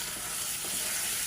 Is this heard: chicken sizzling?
yes